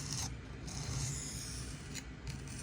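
A Benchmade 940 knife edge is drawn across a sharpening stone with light pressure, producing a steady, close rasping scrape, with a few brief higher strokes and no voices.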